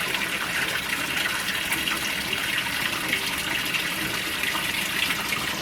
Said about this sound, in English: this is its maiden wash without laundry